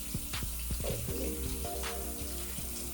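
Tap water runs into a sink while a facial product is rinsed off, a low gushing flow broken by splashes and brief clicks, close by with no talk.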